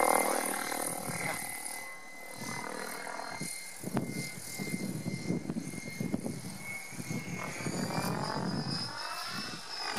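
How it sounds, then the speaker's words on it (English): A radio-controlled Logo 600 Stretch model helicopter's whirring rotor and buzzing motor hold steady nearby for several seconds, with a few voices murmuring underneath. "Sounds like a real helicopter."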